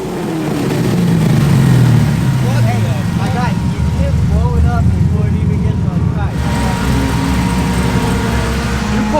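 A four-rotor rotary-engine car drifting at Lime Rock Park roars loudly and close, its engine note sweeping through revs in a sustained, buzzing drone that rises and falls.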